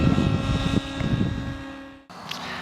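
An OS 105HZ-R glow engine runs in a flying RC helicopter, a sustained high-revving whine with steady tonal harmonics and wind buffeting, cutting briefly before the whine returns.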